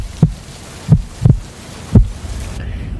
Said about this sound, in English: I can hear your heartbeat over here.